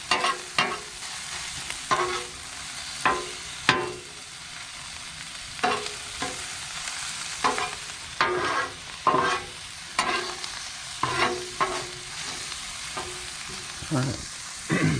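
Sausage sizzles on a Blackstone griddle at a campsite, the frying hiss broken by repeated scraping and stirring strokes of a spatula in an irregular rhythm, close by.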